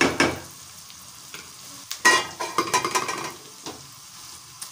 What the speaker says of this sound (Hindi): छोटे भगोने मैंने अपने लिए चढ़ाया है गोश्त, लौकी गोश्त